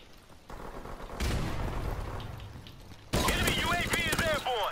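Gunfire in the shooter game Modern Warfare Remastered, with dense, continuous volleys of shots that swell louder partway through, heard close amid other game noise.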